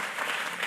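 Audience at a memorial tribute event breaks into applause, a brief burst of steady massed clapping in a hall.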